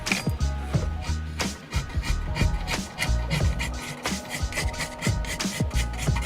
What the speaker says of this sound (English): I started out with number 2 cut files to get the wheel into basic shape